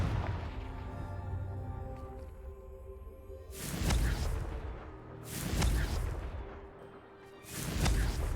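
Confringo fire spells burst in Hogwarts Legacy, three loud booming explosions with rushing blasts spaced about two seconds apart, rising over a quieter stretch of low game ambience and music.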